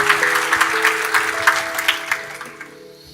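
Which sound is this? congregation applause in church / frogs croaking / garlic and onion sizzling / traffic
congregation applause in church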